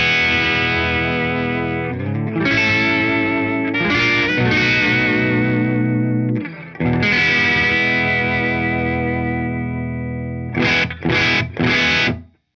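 A 1964 Gibson SG electric guitar with a Maestro Vibrola plays sustained, effected chords with a gentle vibrato shimmer, loud and up close, ending in a few short choppy strums.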